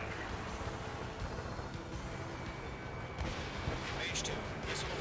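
Missile launches and cannon fire in the Ace Combat 7 combat flight game, a dense continuous roar of engine rumble and rapid gunfire bursts with a whooshing launch near the end.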